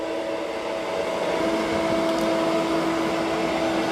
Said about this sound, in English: So it raises the mop pad, increases the suction of the vacuum. I've already got it on its maximum suction.